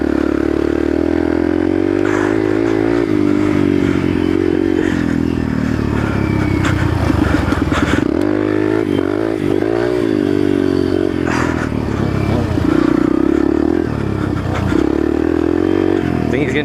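A Yamaha TTR 125 trail motorcycle rides close by on a dirt trail, its engine droning and revving unevenly with clattering and scraping, while voices talk over it.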